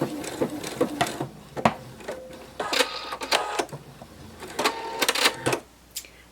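Short, repeated bursts of a sewing machine stitching a narwhal plush, near and fairly loud, with brief stops between runs.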